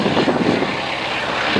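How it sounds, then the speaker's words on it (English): A big 220 hp Continental radial engine drives a propeller on a wingwalking biplane at a rally in Essex, a loud steady throbbing roar close by and without a break. "It's a great big radial engine, as I mentioned early on. It is a 220 horsepower Continental."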